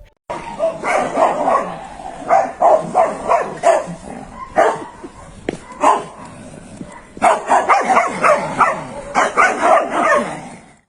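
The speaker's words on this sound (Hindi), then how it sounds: "इन दोनों का एक दूसरे पर भौंकना शुरू हो जाता है" Two dogs bark back and forth in repeated bursts, loud and close, with short gaps and some yips between volleys.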